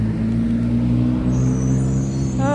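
Garbage truck passing nearby, a loud steady low engine rumble and drone that holds throughout with a faint brake hiss toward the end, no talk.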